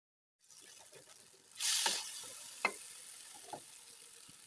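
Gobhi Manchurian sauce of soy and chili sauces cooks in a pan over a medium-to-low flame with a steady soft sizzle, plus a few sharp utensil clicks near the pan and no talking.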